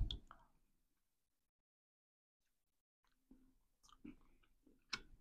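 A bite of shrimp and sausage gumbo with rice is chewed at a New Orleans seafood restaurant, with soft close wet chewing at the start, a quiet pause, then several more moist chews and smacks.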